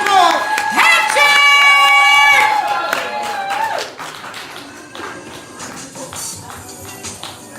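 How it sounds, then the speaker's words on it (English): An audience at a poetry slam claps and cheers in a dense, sustained wash. A loud voice rings out over the crowd in the first few seconds, then the applause continues a little more quietly. "And keep clapping, keep clapping, keep clapping."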